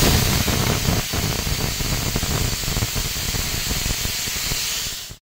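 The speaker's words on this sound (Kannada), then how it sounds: "ಕುಕ್ಕರ್ ಲಿಡ್ಡನ್ನು ಕ್ಲೋಸ್ ಮಾಡಿ ಒಂದು 3 ವಿಷಲ್ ಕೂಗಿಸ್ಕೊಳ್ಳೋಣ" Steam hisses loudly and continuously from a closed pressure cooker cooking baby food, a steady bright rush that fades out at the very end.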